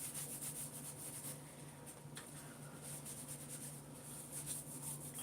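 A wet cloth wiping sawdust off a wooden build, giving faint, steady rubbing strokes in a soft rhythm over a quiet background hum, close by with no talking.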